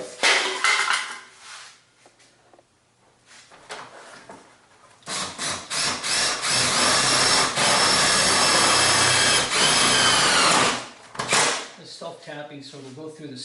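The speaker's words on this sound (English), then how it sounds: "So I'm going to take 2 sheet metal screws and screw these 2 pieces in." A power driver sinks 12 x 3/4 hex-head self-tapping sheet metal screws into a steel garage door panel: short bursts and clatter first, then one loud, sustained grinding whir lasting several seconds before it cuts off.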